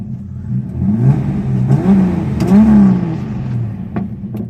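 A Nissan L28 inline-six car engine revs up and down several times in a short sequence of rising and falling pulls, close and loud, with no talk over it.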